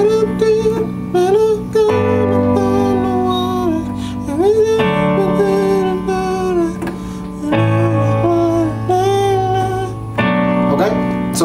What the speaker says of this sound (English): Part 3 is only 4 chords, and it sounds like this.